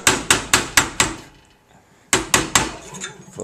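A mallet strikes a tapered silver ring on a mandrel to bring it back to round. Five sharp, evenly spaced blows, a short pause, then three more closely spaced hits, loud and near, with no voices.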